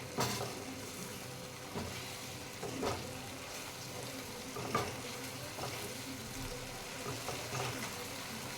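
Tomato masala for rajma sizzles softly in a pan while being stirred, a continuous gentle frying hiss broken by quiet scraping strokes of a spoon every second or so.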